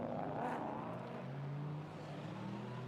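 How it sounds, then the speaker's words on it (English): GT4 race cars, among them Alpines, Toyotas and Porsches, run down the pit lane at Jeddah, a faint, distant engine drone with a rising tone as a car passes. "down the pit road go Alpines, Toyotas, Porsches"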